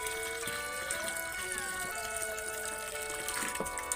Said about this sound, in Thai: น้ำมาแล้วครับ